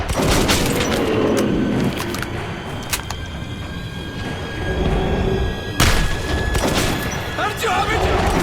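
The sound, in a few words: shotgun gunfire in video game Metro 2033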